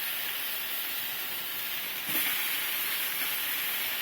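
Chicken pieces in BBQ sauce browning on a grill give a steady, even sizzling hiss throughout, with a brief louder flare of sizzle midway.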